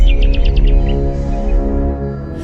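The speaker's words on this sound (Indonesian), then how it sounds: "burung-burung mulai berkicau, memecah kesunyian yang selama ribuan tahun tak pernah terusik" Birds chirping in a quick series of bright, repeated calls early on, set over a loud, dense tonal music bed that dominates the rest.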